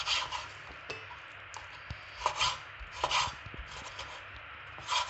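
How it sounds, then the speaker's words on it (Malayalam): Knife chopping pieces of beef for a Kerala-style beef fry, with irregular close taps and scrapes on a board at a gentle kitchen volume. "നമുക്ക് ബീഫ് കട്ട് ചെയ്യാം."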